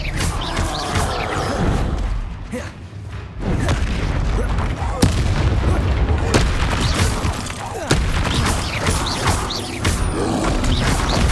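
Repeated Confringo blasting-spell explosions in Hogwarts Legacy combat: a run of loud booms and sharp cracks over about eleven seconds, with crashing debris, mechanical clatter and a steady dense battle din between the hits.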